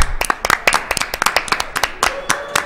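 A room audience at a speedrun marathon claps in quick, uneven sharp bursts, a small crowd's scattered applause close by with a faint tone ringing underneath.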